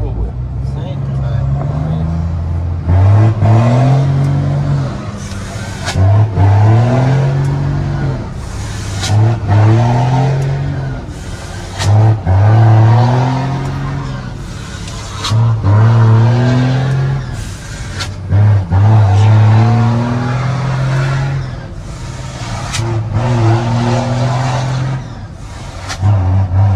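Car engine revving repeatedly in rising and falling bursts while driven without the clutch, loud and close, with people talking over it throughout.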